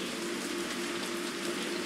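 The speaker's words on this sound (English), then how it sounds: "Wow, heavy rain, huh?" Heavy rain in the Resident Evil 3 video game, a steady, dense hiss of downpour with a faint constant hum underneath, continuous and even throughout with no voices.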